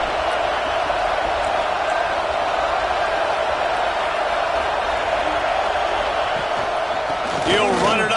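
Stadium crowd noise from a video game American football match forms a steady, dense roar that holds evenly from start to finish, with a brief voice-like flutter near the end.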